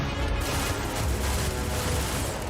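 Dense, continuous gunfire from weapons in the video game Starfield, loud and sustained with rapid overlapping blasts throughout, no voices.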